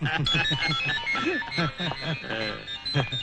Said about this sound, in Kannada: ಶಾರದಕ್ಕ ಫೋನ್ ಮಾಡವಳೆ